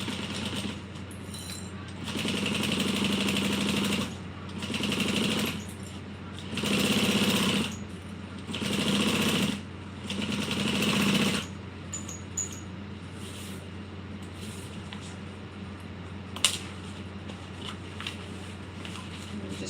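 A sewing machine top-stitches fabric for a bowler bag at a 3/8-inch seam, running in four or five steady bursts separated by short pauses, then falling quiet with faint handling noises.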